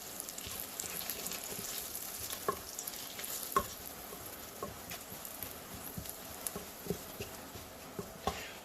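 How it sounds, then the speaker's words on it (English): Spices sizzle in a pan for a quick chicken biryani, a continuous frying hiss broken by repeated spoon scrapes and taps as the mix is stirred, close and fairly loud with no talking. "Okay, and mix it in. Fry together with the rest of the spices."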